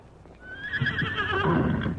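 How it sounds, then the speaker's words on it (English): An Indian pony neighs loudly and close by, a single rising whinny that wavers and lasts about a second and a half, with a few faint hoof clatters before it and no talking. "That's this horse of yours, Mike, that's making the trouble"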